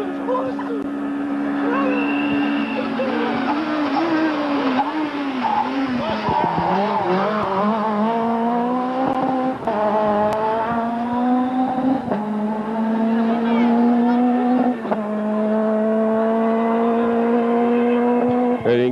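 Golf GTI rally car racing at Rally Crete 2004, with the engine revving hard through rising and falling gear changes, tyres squealing in the turns, and a commentator talking over the sustained close engine noise.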